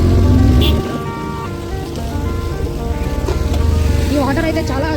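Heavy water rushes loudly and continuously through a dam near a bridge at Edupayala, a close, broad roar with no pauses.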